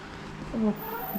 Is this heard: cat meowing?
yes